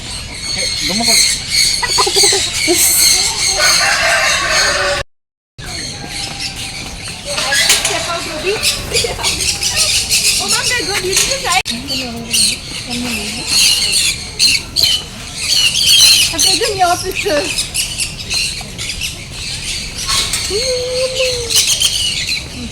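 Chickens cluck and squawk in a busy, noisy yard in Coorg, with voices talking over the birds throughout and one brief dropout in the middle.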